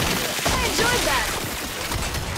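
A Gears 5 Horde match rumbles with dense, overlapping gunfire. Noisy battle effects fill the whole stretch at steady loudness.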